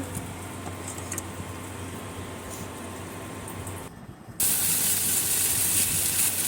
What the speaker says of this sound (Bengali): এই তো চিংড়ি মাছ লতি দিয়ে রান্না বসাই দিচ্ছি